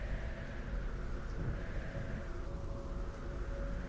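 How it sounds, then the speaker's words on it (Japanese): Thunder and heavy rain break out after the sky suddenly clouds over, in a picture-book tale of a horned serpent at Lake Towada; a steady, dense downpour roars throughout at an even level, with low rumbling mixed in. "雷が鳴り、激しい雨が降り出しました。"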